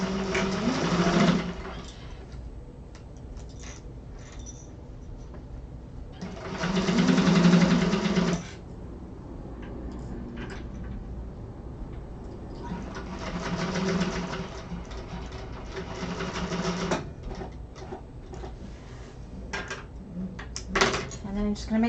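A domestic sewing machine stitches through two layers of fabric in several short, steady whirring runs separated by pauses, with a person talking quietly in between.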